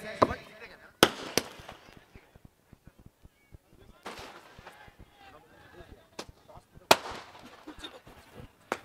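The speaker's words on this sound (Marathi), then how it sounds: "फटाक्यांच्या आतिषबाजीत आज प्रमुख अतिथींचं स्वागत या ठिकाणी होतंय" Firecrackers and fireworks burst at an outdoor cricket tournament prize ceremony, sharp loud cracks and rapid crackling volleys in several bursts across the stretch, with quieter scattered pops in between.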